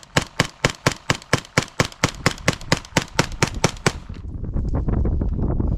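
A Scorpion Evo fires a rapid string of about fifteen sharp, loud shots in a steady rhythm, emptying the magazine, then the bursts stop and leave a rumbling echo and outdoor noise.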